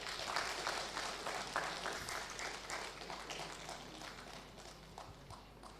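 Audience clapping at a conference in Nagpur, a dense, fairly distant patter of many hands that holds steady and fades slightly toward the end.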